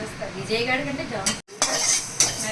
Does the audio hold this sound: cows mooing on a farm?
no